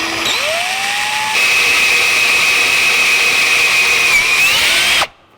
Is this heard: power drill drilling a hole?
yes